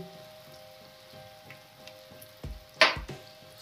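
Bitter gourd frying in a pan over a low gas flame, a faint crackling sizzle with a couple of louder clatters near the end.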